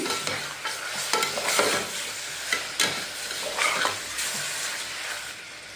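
Mutton stirred with ginger-garlic paste in a pan for mango mutton curry: continuous close scraping and sizzling in uneven strokes, with no talk.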